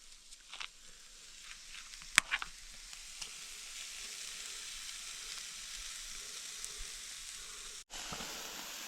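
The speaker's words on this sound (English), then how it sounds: "We got the wings cooking away" Chicken wings coated in a brown sugar rub sizzle steadily on an outdoor cook, a continuous close frying hiss with occasional pops and small clatters, no talk.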